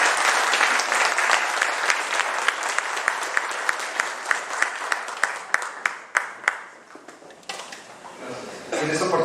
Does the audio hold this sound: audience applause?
yes